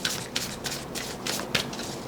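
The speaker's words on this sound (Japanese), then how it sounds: "もう一枚オラクルカードを引かせてください。" Oracle cards being shuffled by hand, a quiet run of soft papery riffles and flicks repeating in short bursts, close and faint with no talking.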